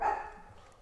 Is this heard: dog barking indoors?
yes